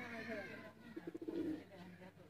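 Teddy pigeons give a short rolling coo, a quick run of low throaty pulses, close but soft, with a faint murmur of voice around it.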